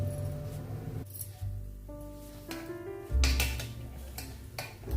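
Steel bowls clinking and knocking as they are lifted out of a steamer after steaming suji tikki, a few close metallic clinks and rattles spread across the moment, with no talking.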